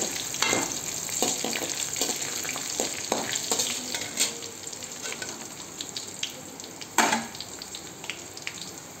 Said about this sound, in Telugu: ధనియాలు, ఒక్క స్పూన్ శనగపప్పు, చక్కగా వేయించుకోవాలండి